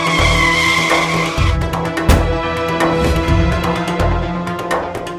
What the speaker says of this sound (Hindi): ड्राइवर, गाड़ी रोको, मुझे मंदिर जाना है।